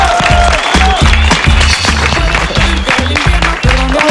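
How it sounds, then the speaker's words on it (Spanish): A Mexican TV studio audience applauds a pop singer as she arrives on the show, with loud, dense, continuous clapping and a few sharp accents, close and filling the room. "un fuerte aplauso para ella."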